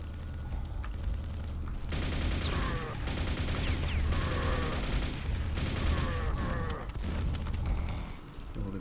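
Rapid, continuous weapon fire from the nail gun in the 1996 video game Quake, a dense, loud stream of mechanical shots with explosive crashes and impacts, unbroken for several seconds with no talking.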